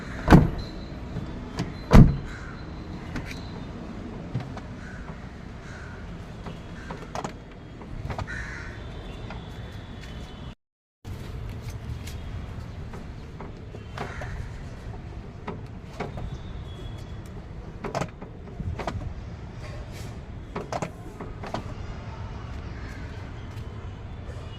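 A Renault Fluence car door is opened and shut several times after a greased door limiter repair, with sharp thuds and clicks spread through a long outdoor stretch where crows caw loudly, and no talking.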